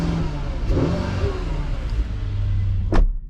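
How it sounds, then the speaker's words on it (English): Mercedes GLS 580 in sport mode giving a short engine rev, a deep rising roar that builds near the end of a few seconds of steady cabin rumble, close and fairly loud. "I'm gonna set it to sport, see if I can get the engine to roar."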